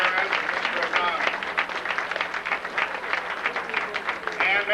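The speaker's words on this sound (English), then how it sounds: "Please give a round of applause to Mr. Gutierrez and Mr. O'Donnell." A high school awards ceremony audience claps together in loud, sustained applause, a dense rattle of many hands that keeps going steadily throughout.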